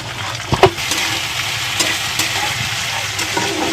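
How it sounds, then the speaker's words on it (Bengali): Masoor dal lentils frying in a pan with onions browned to a light brown, giving a steady close sizzle broken by a few sharp stirring clatters, with no voices. "ডালটা ভেজে নিচ্ছি।"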